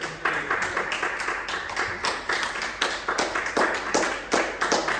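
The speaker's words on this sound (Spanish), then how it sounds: "vamos a darle un aplauso al Señor" Church congregation clapping and applauding during a worship service, a steady, fairly close run of many overlapping hand claps with rhythmic accents throughout.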